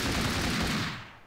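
An assault rifle fires in the Flans Mod Minecraft game as a short, loud burst of rapid shots, fading out quickly at the end.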